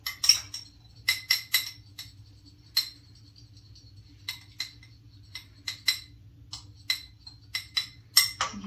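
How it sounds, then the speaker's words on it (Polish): A utensil stirring a homemade winter face cream with castor oil in a glass container, giving sharp, irregular clinks and taps against the sides, close and fairly loud over a faint low hum. "Także muszę bardzo intensywnie w tej chwili mieszać."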